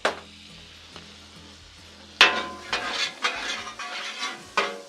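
Butter, garlic and sugar cooking on a Blackstone flat-top griddle beside pork chops: a quiet sizzle broken by several sharp metal spatula clanks and scrapes against the griddle surface, close and fairly loud.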